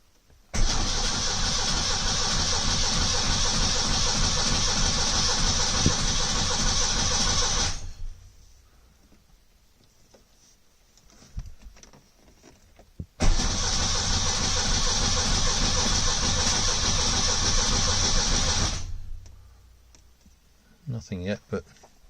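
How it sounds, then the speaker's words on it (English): Two long bursts of a rebuilt 1970 Lancia Flavia Milleotto LX engine cranking over with spark plugs in, a steady rapid churning each lasting several seconds, separated by a pause with faint clicks and handling noise. "It's having to drive the engine with the plugs in."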